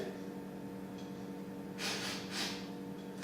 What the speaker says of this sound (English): Let me give it a quick sniff.